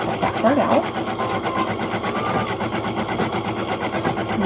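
A machine embroidery rig stitches the insides of the eyes on a felt mask, its needle hammering out a fast, steady, continuous rhythm up close, while a voice talks over it.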